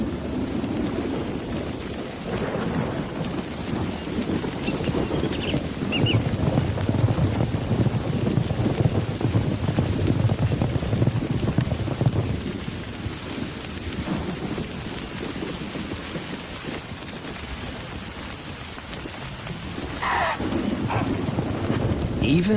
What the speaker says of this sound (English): Each day, thunderstorms break overhead.